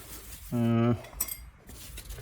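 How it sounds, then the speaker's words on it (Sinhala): Kottu roti served onto a plate with cutlery, a few light metallic scrapes and clinks around a brief tonal hum, with no speech. "දැන් අපි මේක පොඩ්ඩක් පිඟානකට බෙදාගෙන බලමු තත්ත්වය කොහොමද කියලා."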